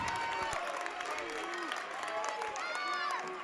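Spectators at a Vermont Division 3 quarterfinal playoff basketball game, Hazen vs Randolph, applaud and cheer in a gym, a steady wash of clapping and shouts with whistling calls rising above the noise.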